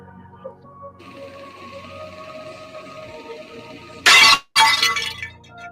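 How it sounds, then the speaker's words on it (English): Glass drops and shatters on a floor indoors: two loud, sharp crashing bursts in quick succession over a quiet tonal background hum, followed by a brief trailing tinkle. "Who dropped some glass on the floor?"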